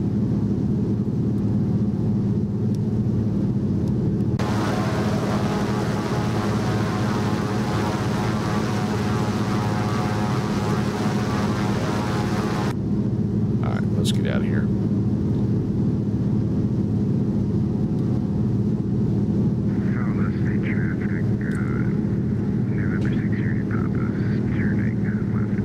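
Droning propeller engine of a Thranda Beaver bush plane making a low pass over a runway in a flight simulator, steady and loud throughout, with a brighter, harsher roar swelling for several seconds mid-pass before easing back.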